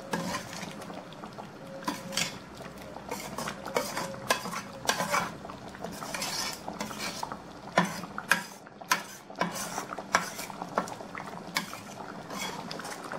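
A spoon gently stirs egg gravy in a pan, making soft, faint, irregular scrapes and light metallic clinks at close range.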